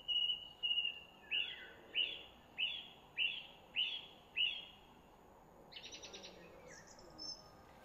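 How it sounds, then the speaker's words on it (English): A series of bird calls rings out outdoors, about eight evenly spaced hooting notes followed by quicker fluttering chirps and a brief final call, each clear and fairly close against a quiet background. "there's some similarities, like from the sounds that the birds are making here"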